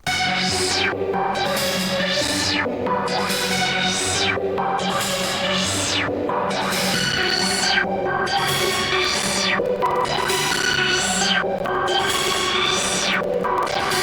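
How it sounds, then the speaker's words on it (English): A loud, steady synthesizer melody with bright, swelling notes that rise and fade in a repeating pattern over a sustained low backing. "The first sound here is a synth."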